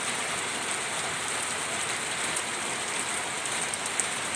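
Steady rainy-season rain falls in a dense, even hiss of drops on surfaces, close and continuous with no voices.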